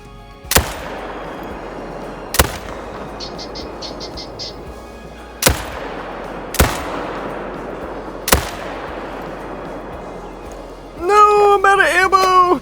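Rifle shots while hunting in the Call of the Wild game: five sharp, loud single cracks spaced a couple of seconds apart, each trailing into a ringing echo, followed by a short burst of animal calls.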